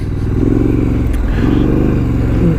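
A 2019 Triumph Scrambler motorcycle engine runs at a steady, loud, close drone with a slight rise in pitch midway, continuous for the whole moment, with no talking.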